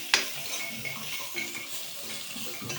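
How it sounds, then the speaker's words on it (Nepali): Gundruk, fermented leafy greens, is stir-fried in a pan with chili powder and salt. A close, steady sizzle runs under repeated scrapes and clinks of a spoon against the metal, with no voices. "अनि यसरी मजासँग यसलाई भुट्ने।"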